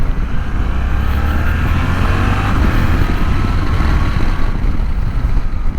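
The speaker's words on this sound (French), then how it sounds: "dès qu'on ouvre, c'est extraordinaire. La puissance est délivrée très rapidement" A Suzuki V-Strom 800 DE motorcycle pulls hard under acceleration on the road, its engine droning loud and close beneath a steady roar of wind.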